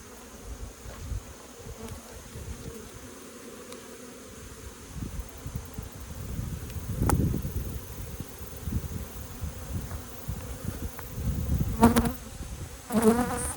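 Swarm of bees buzzing around a hive close by, a continuous droning hum with individual insects swelling louder as they pass near, plus occasional rustles and sharp buzzes toward the end.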